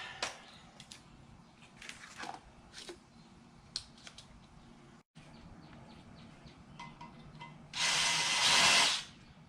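A loud drill whirs for about a second near the end, using a worn drill bit on a 1955 Chevy hardtop, after scattered clicks and clatter from handling tools at close range.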